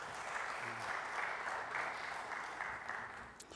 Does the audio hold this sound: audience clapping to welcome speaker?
yes